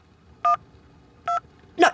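Phone keypad dialing a call, two evenly spaced dual-tone beeps followed by a third, sharper electronic tone, loud and close with no talking.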